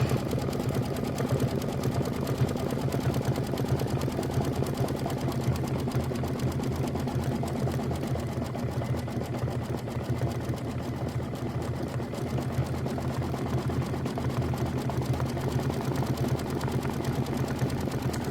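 A computerized embroidery machine stitches a Kimberbell mini quilt design, outlining a wing and adding tail detail. Its needle chatters in a fast, even, unbroken rhythm throughout, close and steady with no voices.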